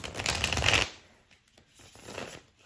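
Tarot cards being shuffled by hand, a dense close riffling burst for under a second, then quieter soft card handling and sliding afterward.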